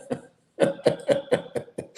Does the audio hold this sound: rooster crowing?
no